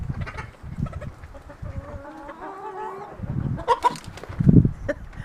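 Chickens and a rooster cluck on a farm near a barn, with repeated low clucks and drawn-out calls in irregular bursts, close and moderately loud.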